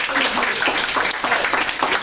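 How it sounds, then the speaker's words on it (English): Eighth-grade students clapping in a classroom, a moderate burst of applause from a small group, steady and fairly close, with some talk mixed in underneath. "You guys give me your applause."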